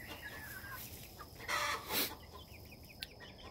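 Young backyard chickens cluck in two short bursts over a steady outdoor background, fairly close to the listener, with no talking.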